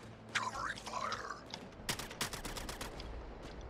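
Video game gunfire in Suicide Squad: Kill the Justice League crackles in rapid bursts of sharp shots over game ambience, with a voice speaking early on.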